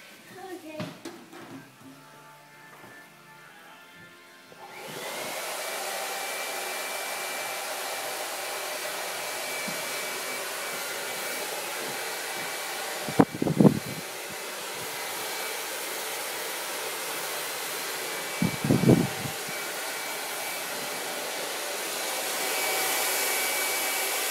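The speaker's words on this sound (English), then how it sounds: "Now you need to brush again with the hair dryer so then you get all the hair off." A hair dryer starts up after some quiet handling noises and blows steadily and loudly to clear cut hair after a haircut, with a couple of brief bumps.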